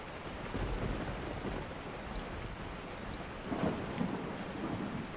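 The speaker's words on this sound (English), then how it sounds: "And it's raining out." Steady rain hiss with low rumbling thunder rolling underneath in the video game Resident Evil 4, swelling louder briefly partway through before settling back into the downpour.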